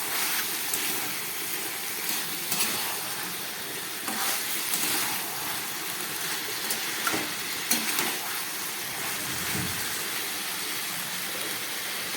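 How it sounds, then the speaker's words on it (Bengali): Fried ingredients are stirred into Malabar spinach in a pan, a steady wet sizzle with intermittent spatula scrapes and clinks spread over several seconds, moderately close, no voices. "এবার এটাকে আমি এর মধ্যে মিশিয়ে নিচ্ছি"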